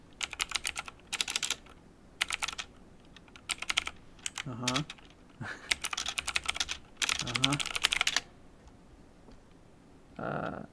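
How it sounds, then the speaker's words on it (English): Rapid clattering bursts of keystrokes on a computer keyboard, loud and close, in several runs separated by short pauses, with a voice talking briefly in between. "really typing it in."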